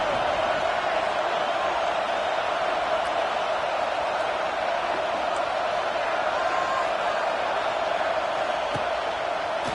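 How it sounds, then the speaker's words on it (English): Steady, roaring stadium crowd noise from the college football video game NCAA 26, a constant dense wash of voices held at an even level throughout. "Man, this crowd really affecting the football game."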